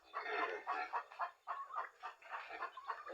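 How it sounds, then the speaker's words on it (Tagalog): Backyard chickens and newly hatched chicks cluck in a pen, a close, busy run of overlapping clucks and chirps with brief pauses between bursts. "maraming sisiw"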